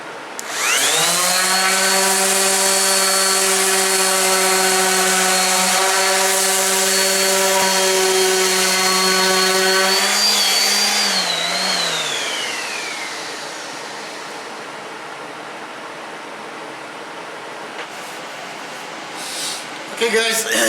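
Battery-powered sander working wood for a cabinet, a loud steady high whine with strong harmonics that holds for about ten seconds, then drops in pitch and winds down as the motor stops, leaving quiet room noise.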